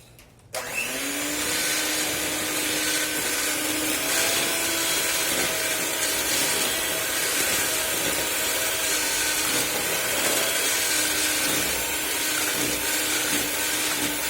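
An electric mixer whirs continuously, beating a gluten-free orange cake batter made with rice flour and coconut oil. It switches on sharply and keeps a loud, steady drone with a faint scraping texture, with no voices.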